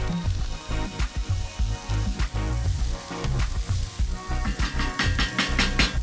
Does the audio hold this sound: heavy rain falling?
no